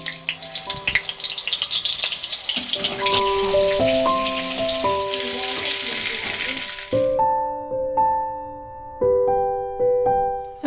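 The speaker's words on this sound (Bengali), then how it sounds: "কড়াইটা গরম হয়ে গেছে, এবার দিয়ে দেব সরিষার তেল। এবার এর মধ্যে 1 টুকরো বাটার দিয়ে দেব।" Mustard oil and a piece of butter sizzle in a hot wok, with a dense crackling hiss under a melodic tune for about seven seconds. The sizzle then drops away, leaving only the music.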